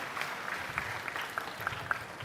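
An audience claps at a government parent-teacher meeting in a large hall. The applause is steady and fairly distant, a continuous patter with scattered sharper claps standing out, and no voices are heard.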